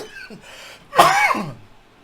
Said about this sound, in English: Here comes my fucking cough back.